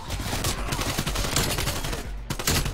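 Rapid bursts of AK74u automatic fire in Call of Duty Cold War, loud and close, with short volleys running almost continuously across the clip.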